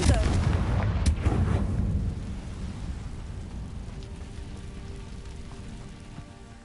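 Confringo fire spell cast in Hogwarts Legacy: a loud burst and crackling impact up front, with a sharp crack at about one second, then a rumbling decay fading over several seconds.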